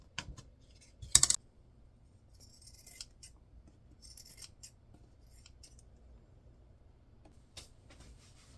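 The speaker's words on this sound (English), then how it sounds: "Here I'm just trimming up some excess." Scissors snip away excess felt from a small craft heart: a few crisp, close cuts, one louder burst early on, then scattered soft clicks and rustles in a quiet room without talking.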